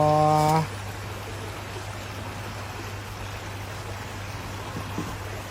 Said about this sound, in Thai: มันจะเป็นลำธารธรรมชาติอ่ะพี่น้อง มันไหลมาตามธรรมชาติหมดเลยนะ